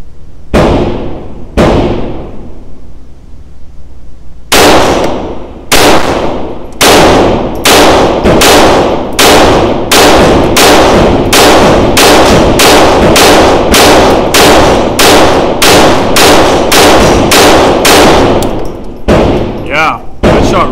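Sig P322 rimfire pistol firing Norma TAC-22 ammunition outdoors: two spaced shots, a pause, then a long rapid string of about twenty loud, sharp cracks in quick steady rhythm, close and dominant.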